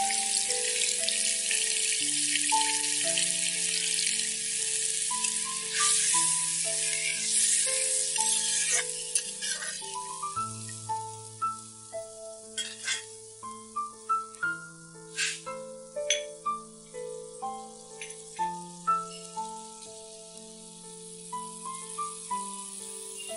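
Water poured into a sizzling spice mix for a village-style Bombay duck curry sets off a loud hiss that fades into softer bubbling pulses, with a melodic tune playing throughout.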